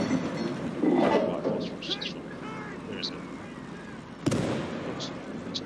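Gunfire in the World War II strategy game Call to Arms: Gates of Hell, with scattered mid-distance shots and bursts, one sharp close crack near the end, and someone talking over the action.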